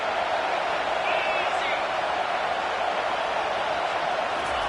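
A football stadium crowd roars with a steady, dense wash of cheering that stays loud and sustained throughout, with no clear breaks.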